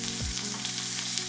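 Chicken pieces sizzle in a pan over medium-high heat, a dense, even crackling hiss that carries on steadily with no talking.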